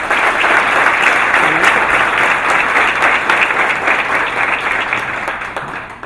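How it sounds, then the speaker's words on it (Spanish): An audience gives loud, dense applause at a talk event with Carlos Franco Amastha and Daniel Samper Ospina, steady clapping that tapers slightly near the end. "por favor un aplauso fuerte para ella."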